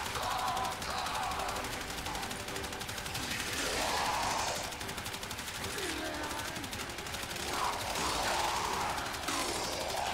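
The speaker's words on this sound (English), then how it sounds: "Let's do like one more mag of the machine gun" Rapid machine gun fire from the Soma Prime Incarnon in Warframe, a loud continuous rattling stream of shots with a few swelling bursts over about ten seconds, alongside faint game effects.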